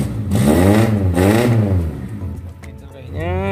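Engine of a 1993 Suzuki Katana with an aftermarket header exhaust starts and revs loudly, rising and falling twice in pitch before settling into a steady idle, close to the microphone with no talk over it.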